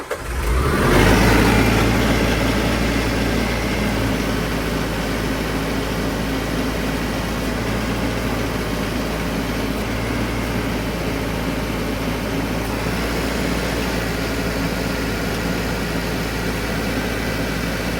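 A tractor engine holds a steady loud drone at constant RPM after a brief rev-up at the start, running close and continuous throughout with no talk over it.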